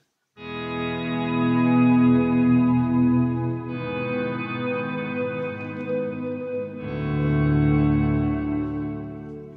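Electric guitar chords swell in slowly through Guitar Rig 6, with an octave-down shifter on the wet signal adding deep bass beneath lush reverb and chorus. Three sustained chords change one after another with no talking.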